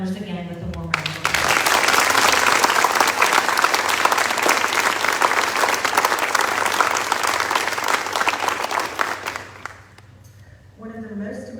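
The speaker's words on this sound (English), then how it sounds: "Would you please help me in thanking all of our donors again with a warm round of applause?" Warm applause for scholarship donors at a Fort Cavazos family scholarship award ceremony, a dense sustained clapping crowd lasting several seconds and then fading, with a speaker's voice briefly before and after.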